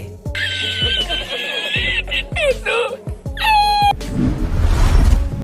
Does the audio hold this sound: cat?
yes